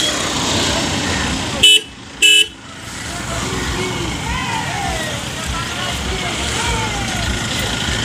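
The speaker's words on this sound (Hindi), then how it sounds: "देख सकते हैं गाइस दूल्हा बाबू का गाड़ी निकल रहा है गाइस" A groom's wedding car pulls away with two short, loud horn honks, followed by steady roadway traffic noise at a temple wedding in Jharkhand.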